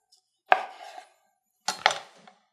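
A knife cuts through a filled dish into half-inch slices, giving two separate close, crisp chops against a board with brief scraping after each, in an otherwise quiet setting.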